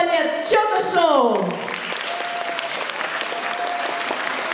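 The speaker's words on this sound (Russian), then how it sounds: "Встречаем на сцене бурными аплодисментами шоу-балет «Чока-шоу»." An audience at a concert show applauds a show ballet taking the stage, thick steady clapping filling the whole stretch, with a voice announcing at the start over it.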